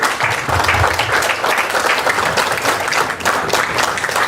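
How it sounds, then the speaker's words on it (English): Audience applause for eleven candidates at an election forum, a loud, dense, sustained round of clapping from a seated crowd that continues steadily throughout. "Let's give a round of applause for all 11 of our candidates."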